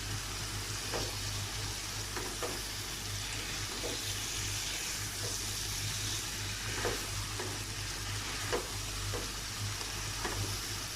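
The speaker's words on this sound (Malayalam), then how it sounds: "ചെമ്മീനും കോളിഫ്ലവറും ആഡ് ചെയ്ത് കൊടുക്കണം. ഇതെല്ലാം നന്നായിട്ടൊന്ന് മിക്സ് ചെയ്ത് യോജിപ്പിക്കാം." Prawns and cauliflower masala being mixed in a frying pan, a steady quiet sizzle with light, occasional spatula scrapes and taps spread through the stretch, under a faint low hum.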